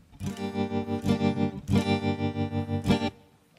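An electric guitar through a Digitech RP55 tremolo effect plays sustained chords, its volume pulsing in a fast, steady wobble, with a slightly gritty tone; two strums ring out before fading.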